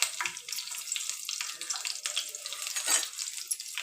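Mustard seeds and green chillies fry in hot oil, crackling and hissing in quick, uneven bursts that come close and fairly loud.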